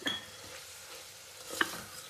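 Brinjal and capsicum being stirred as they fry in a pan for vangi bath: a close, steady sizzle with a spoon scraping twice, near the start and again around the middle. No voices.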